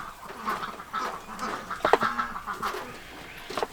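Chickens and ducks at feeding time cluck and quack together in a busy, continuous chorus, with occasional louder calls rising above the flock.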